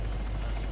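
Steady low droning rumble of a Ghost Hawk helicopter in Arma 3, a constant engine and rotor hum heard nearby without talk, lasting only a brief moment.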